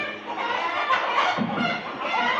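Chickens cluck at a poultry farm in Saudi Arabia in a few close, short calls over the constant whoosh of a running air cooler.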